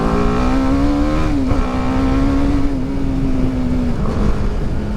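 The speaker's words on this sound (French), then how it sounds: "j'adore le bruit qu'il fait aussi le moteur" A BMW G310R motorcycle engine runs close by with a loud, steady droning hum whose pitch dips and rises slightly.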